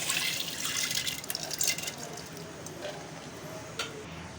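Soaked green gram tipped along with its soaking water into a cooker makes a soft, steady pouring splash, close and continuous, fading toward the end with a few drips.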